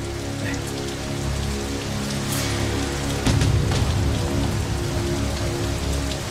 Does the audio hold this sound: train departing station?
no